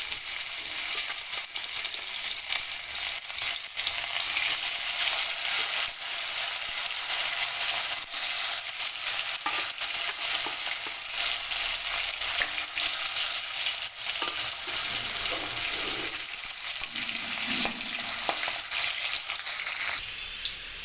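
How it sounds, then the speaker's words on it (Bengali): Pieces of snakehead (shol) fish frying in hot mustard oil, with a loud, steady, dense sizzle that fills the whole stretch, close and without a break, and faint stirring underneath. "তেলটা এখানে গরম হয়ে গেছে মাছগুলো একে একে দিয়ে দেবে"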